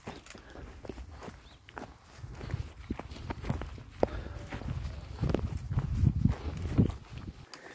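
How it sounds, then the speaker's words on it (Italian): Bells on a flock of sheep clank and clonk in irregular, overlapping strikes, with soft shuffling steps beneath; the clanking grows louder and busier toward the end, and no one speaks. "Qui il paesaggio sonoro è disegnato dal suono di questi campanacci, di queste pecorelle."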